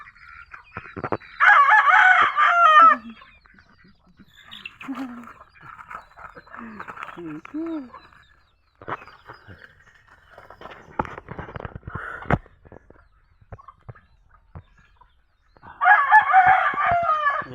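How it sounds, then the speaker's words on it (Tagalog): Pet chickens on a farm, with a rooster crowing loudly twice, once near the start and again at the end, while a person talks in between and birds cluck softly in the background. "silipin natin ang ating mga alagang manok dito"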